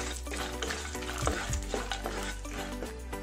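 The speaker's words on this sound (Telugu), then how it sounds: "కొంచెం కాజుని కూడా గోల్డెన్ కలర్లో వచ్చేంత వరకు ఫ్రై చేసుకోవాలి." Cashews fry in oil until golden for a restaurant-style kaju paneer masala curry, a close steady sizzle with a spoon stirring and scraping against the pan, no voices.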